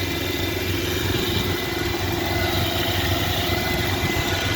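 A 1991 Ford Aerostar XL minivan engine idles steadily just after startup, a continuous, even mid-pitched rumble with a faint vibrating hum, close and alone with no talking.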